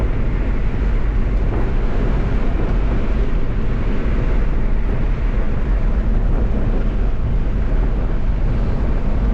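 Steady, loud engine and road drone from inside a 1953 Chevy 3100 five-window truck on an S10 frame, cruising in fourth gear, with continuous broadband rumble and wind noise and no break.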